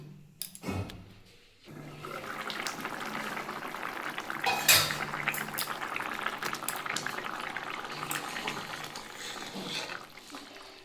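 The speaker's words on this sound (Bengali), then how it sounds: "আলুগুলো ঝোলটা ফুটছে" A covered pot of fish egg broth with potatoes bubbles in a steady, soft simmering hiss, broken early by a few utensil clatters and a sharp clink midway.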